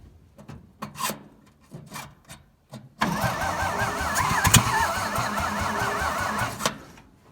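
An old 1950s Dodge dump truck, left abandoned for 30 years, cranks in several uneven bursts, then catches at about three seconds and runs in a loud, rough, steady roar before stopping near the end.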